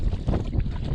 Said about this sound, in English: Now I'm paddling against the wind to get there.